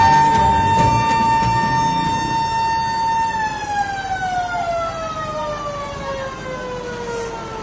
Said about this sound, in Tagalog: Umalingaw ang sirena ng bumbero pasado alas 11 ng umaga kahapon September 29.